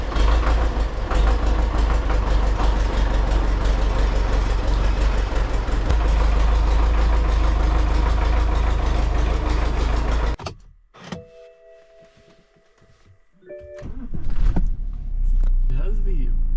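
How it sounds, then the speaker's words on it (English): A tractor engine idles with a loud, steady low rumble as the tractor is moved out. The rumble drops away for a few seconds, then returns at full strength. "So first I gotta get this tractor out of here."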